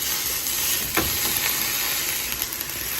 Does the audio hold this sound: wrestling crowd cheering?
no